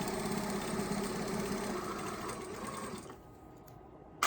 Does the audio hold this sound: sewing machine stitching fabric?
yes